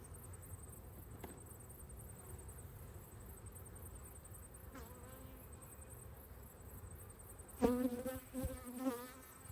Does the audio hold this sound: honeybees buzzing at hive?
yes